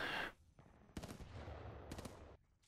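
Video game gunfire from an unseen shooter, a loud broadband burst at the start followed by two sharp clusters of rapid shots about a second apart over a steady background rumble.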